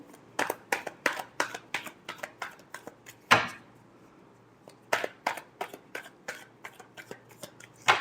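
A deck of tarot cards is shuffled in a quick rhythmic series of riffling snaps and slaps, close and fairly quiet, with one louder tap midway through.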